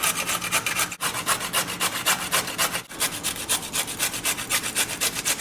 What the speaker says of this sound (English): I'm going to grate them with a cheese grater